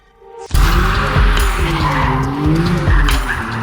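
A McLaren Artura hybrid sports car launches hard as its electric motor kicks in, with a sudden loud onset into a rising, wavering engine note and screeching tire skids, close and without talk.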